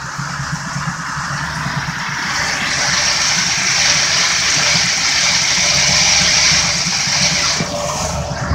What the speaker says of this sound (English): the engine is shaking a little bit